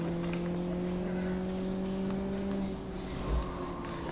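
A race car engine drones in the video game Live For Speed, a steady mid-pitched hum holding level for several seconds, then shifting tone briefly near the end, with no talking.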